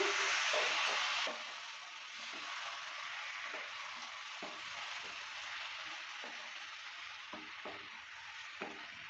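Jackfruit and lentil curry is stirred in a pan after the lid comes off, a steady sizzling hiss broken by repeated soft scraping strokes of the spoon, close and continuous with no talking.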